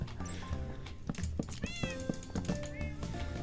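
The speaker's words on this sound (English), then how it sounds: "I'll get the cat in" A Minecraft cat meows a few times in a 1.20.2 survival world, the short mews mixed with steady game music and other background noise.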